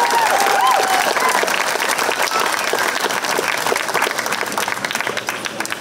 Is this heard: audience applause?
yes